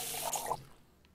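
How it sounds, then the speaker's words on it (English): Water pours from a tap in the Cooking Simulator video game, a brief rushing splash that cuts off abruptly after about half a second, leaving faint background. "I'll pour some water."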